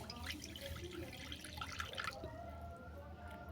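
Water poured from a container into a pot set up for steaming a silver carp belly and eggplant dish, a close trickling and dripping splash that runs for a few seconds over a low background hum, with no talking.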